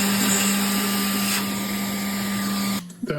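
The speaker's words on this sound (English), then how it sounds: "I'm going to run hand dust collection on this for now" A shop vac runs steadily up close as dust collection while carbon fiber is milled, a loud continuous motor whine and hiss that cuts off abruptly near the end.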